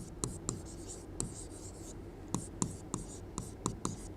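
Chalk or marker strokes on a board during a chemistry lesson on electrochemistry, a series of sharp, irregular taps and scratches close by with quiet room tone and no talking.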